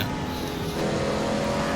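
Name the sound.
racing car engine from video game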